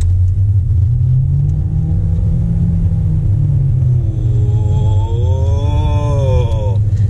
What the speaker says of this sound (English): So as the engine revs up, the CVT lazily follows suit and just sort of eventually slings you forward.